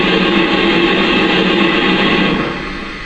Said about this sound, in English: You got the cylinder blowdown effect.